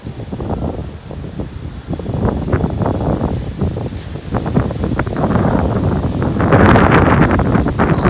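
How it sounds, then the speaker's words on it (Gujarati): Strong wind blows outdoors, buffeting the microphone in rough, rumbling gusts that build louder toward the end. "જો પવન ખતરનાક છે"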